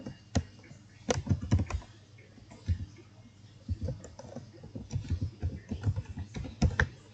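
Quick, uneven bursts of keystrokes from a computer keyboard as account details are entered, light clicks clustered in short runs with small gaps, close and fairly quiet.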